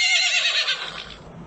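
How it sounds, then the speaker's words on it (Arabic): A single horse whinnies loudly and close, a high shrill neigh that trails off into a fading breathy end. "horse. حصان."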